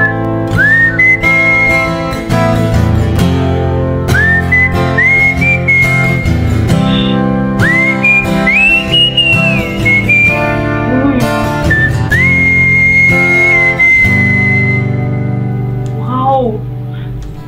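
A person whistles a melodic tune with rising, sliding notes and held tones, loud and close, over steady background music for the whole stretch.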